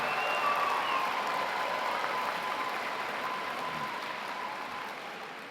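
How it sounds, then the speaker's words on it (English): Crowd applause at the opening of a Science Olympiad national tournament, a steady wash of hands clapping that fades slightly toward the end, with a faint tone running beneath. "Give yourselves another big round of applause."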